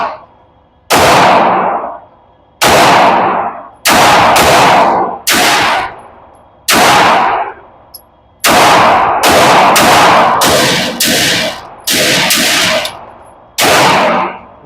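A Rock Island .45 ACP pistol fires at an outdoor match, about a dozen loud, sharp reports in uneven clusters, each with a decaying echo tail and short gaps between shots.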